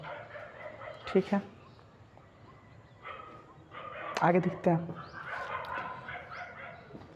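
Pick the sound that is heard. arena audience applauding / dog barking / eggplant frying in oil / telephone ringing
dog barking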